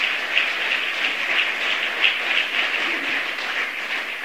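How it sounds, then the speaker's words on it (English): A large audience at a U.S. mayors' gathering gives sustained applause for Vice President Joe Biden, a dense, even wash of clapping with no speech over it. "So please give Joe Biden a big round of applause."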